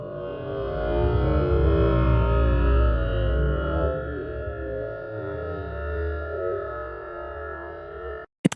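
An audio sample stretched to the extreme in Pulse Stretch software becomes a dense, smeared drone with swirling tonal layers and a distorted, effected texture, sustained loud and continuous before cutting off abruptly near the end.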